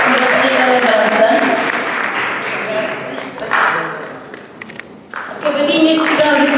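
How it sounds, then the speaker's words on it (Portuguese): A crowd gives strong applause at a sevillanas dance gathering during a bullfighting festival week, loud and sustained, dipping briefly midway before swelling again, with music or voices sounding alongside. "Um forte aplauso para a Maria Neves."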